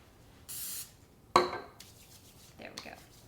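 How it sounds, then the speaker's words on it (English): Two short hissing bursts of cooking spray applied to hands while shaping sticky keto bagel dough, close and fairly loud, followed by faint kitchen clatter. "Now, the dough is sticky, so I should probably spray my hands."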